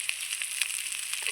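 Cauliflower fries in a pan, a steady, thin sizzle crackling faintly on its own.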